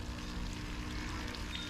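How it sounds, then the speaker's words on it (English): Water pouring and rushing steadily from a pump draining rainwater out of an overflowing pond. The flow makes a continuous close splashing hiss with no talk over it. "Put that pump in there like that. It's draining out some water."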